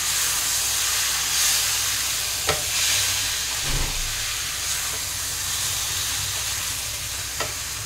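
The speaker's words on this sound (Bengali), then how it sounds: "এঁচোড়টা আমি লো ফ্লেমে 5 মিনিট ধরে কষে নিয়েছি।" Raw jackfruit sautés in a pan over a low gas flame, a steady close sizzle and hiss with a few faint clinks of stirring, no speech.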